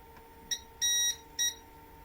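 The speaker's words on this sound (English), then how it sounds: "Does a couple beeps" Elegoo Mars Pro resin 3D printer giving three electronic beeps, a short one, a longer sustained tone, then another short one, clear and close over a quiet background.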